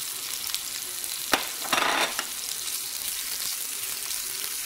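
Ham is stirred into mushrooms frying in a pan, giving a steady close sizzle with a brief scraping swirl of the spoon partway through.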